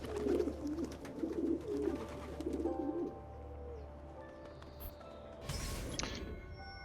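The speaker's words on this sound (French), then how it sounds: "Ok, c'est les pigeons." Pigeons coo in the video game Assassin's Creed II, a soft repeated low cooing that runs under a steady ambient hum, then fades before a brighter noisy burst near the end.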